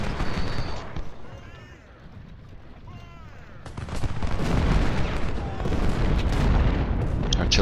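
Artillery and musket fire in a Civil War strategy game battle at First Bull Run, with dense booms and crackling volleys building into a loud, sustained barrage, while a voice talks.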